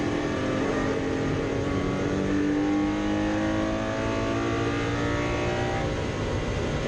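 A Chevrolet Camaro V8 race car roars steadily at Oulton Park, its loud engine note sustained and shifting in pitch as it drives hard past, with no talk over it.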